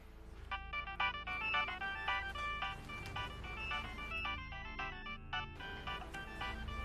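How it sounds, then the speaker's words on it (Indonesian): A phone ringtone plays a bright repeating electronic melody of quick notes, moderately quiet and heard alone without talk. "Aku terima telepon dulu."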